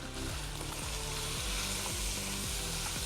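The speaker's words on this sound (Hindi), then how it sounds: "अपने मसाले को हमने अच्छे से भूनना है ताकि चिकन में अच्छा सा फ्लेवर हमारे मसाले का आ जाए" Chicken frying with biryani masala and yogurt for Sindhi biryani, giving a loud, dense sizzle throughout with rhythmic stirring scrapes underneath.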